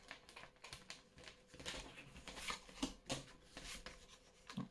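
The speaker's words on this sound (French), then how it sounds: "Bon, j'en ai deux. Je vais les mettre comme ça. Hop, je replace mes cartes." Tarot cards are handled, shuffled and set back into place on a table. The sounds are soft, irregular rustles and light flicks, quiet and close.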